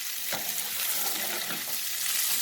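Fish for tacos frying skin side down in hot oil, a loud continuous hiss and crackle of sizzling close up, with a few soft pops and no talking.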